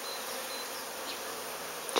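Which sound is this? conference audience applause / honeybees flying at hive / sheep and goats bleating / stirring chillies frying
honeybees flying at hive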